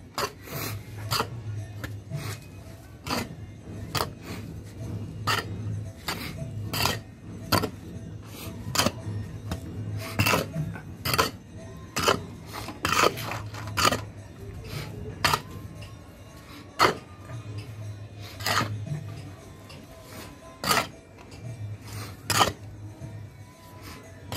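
Old potting soil stirred with a spoonful of carbofuran pesticide in a tub makes a steady series of rough scraping, rasping strokes repeated about every second, close and moderately loud, with no talking.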